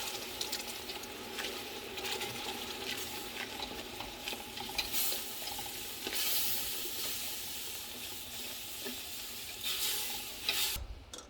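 Oil sizzles steadily in a pan while a utensil scrapes and stirs through frying food with a yogurt, ginger and garlic mixture, with occasional spattering pops and no talking.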